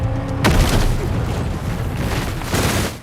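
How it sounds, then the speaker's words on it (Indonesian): Booming blasts and crackling gunfire from an action film shootout between terrorists, a sharp loud explosion early, then dense rumbling shots and another burst near the end. "terjadi baku tembak di antara para teroris yang sama-sama menginginkan berlian"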